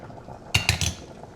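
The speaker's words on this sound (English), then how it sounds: "In go my 20 shrimp." Twenty raw shrimp drop into a hot skillet with a few quick, close clinks and splats, three sharp bursts in a row, then a faint low hiss settling underneath.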